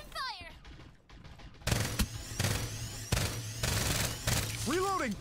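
Gunfire in the battle game Farlight 84, a run of sharp shots and bursts after a brief quieter stretch, with game sound effects, tonal chimes and voice lines over a steady hum.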